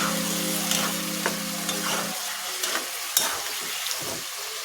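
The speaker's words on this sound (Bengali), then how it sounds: "এখানে আদা রসুন বাটা, চিকেনটা ভালোভাবে নাড়াচাড়া করে নেই।" Chicken coated in ginger-garlic paste sizzles steadily in a hot pan while being stirred, with scraping and clinking strokes over a continuous close frying hiss.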